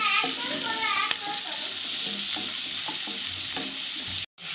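Garlic, onion and capsicum stir-fried in a pan for a chicken salad, giving a steady close sizzle with scraping stirring strokes, ending in a brief drop to silence.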